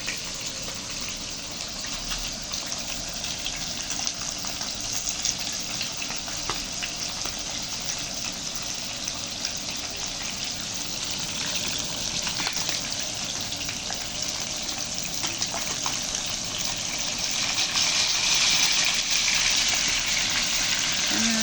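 Fish fry in oil in a pan over a small gas canister burner outdoors, giving a steady dense crackling sizzle that holds loud and unbroken throughout, with no talk.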